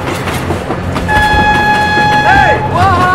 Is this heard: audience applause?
no